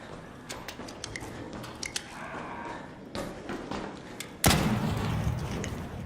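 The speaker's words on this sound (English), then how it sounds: "That's me shooting." Gunfire in the video game Arc Raiders: scattered sharp cracks and thumps at irregular intervals, then a loud, heavy burst that carries on as a dense rumble, with no talking.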